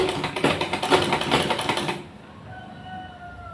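A sewing machine stitches a blouse seam in a fast, steady run of clicking needle strokes for about two seconds, then stops, leaving quiet room tone with a faint tonal hum.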